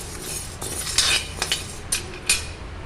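Urad dal being dry-roasted in a pan for sesame podi, with a steady dry rustle and several clear clinks and scrapes of a metal spoon against the pan, no talking.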